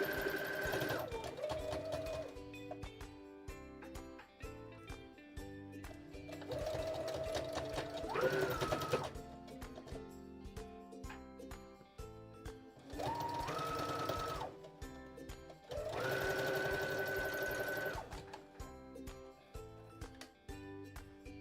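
A sewing machine stitches a fabric carrot-bunny Easter craft slowly through thick fabric, running in several steady bursts with short pauses between, loud and close, with no talk.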